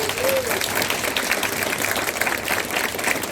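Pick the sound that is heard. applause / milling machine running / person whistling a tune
applause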